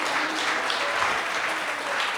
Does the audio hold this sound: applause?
yes